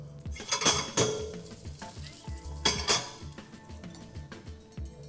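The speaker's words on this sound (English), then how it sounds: "Our oil is hot, and I'm just gonna put in the onions." Onions hit hot oil in a pan while cooking a chicken burger. A soft sizzle runs under repeated clanks and scrapes of a utensil against metal, with two louder knocks near the start and another later.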